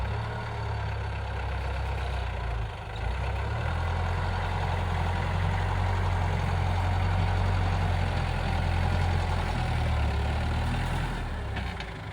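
A farm tractor scraping out manure in a barn, its heavy engine droning loud and steady at close range for the whole stretch, with a low rumbling idle and faint scraping.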